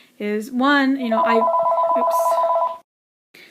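A telephone rings with a loud, warbling electronic trill lasting under two seconds, which cuts in over a person speaking and then stops abruptly.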